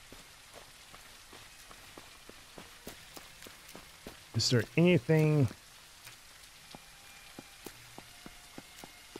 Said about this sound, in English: It's raining here pretty badly